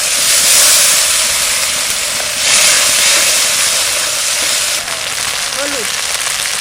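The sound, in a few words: water poured into hot pan with ginger and garlic, sizzling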